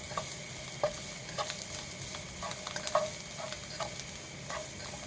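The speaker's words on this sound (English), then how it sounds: "Just let it fry until the fragrance comes out." Chinese sausage, dried shrimp and dried mushroom frying in a pan give a soft, even sizzle, broken by a run of light, irregular clicks and scrapes from stirring, with no speech.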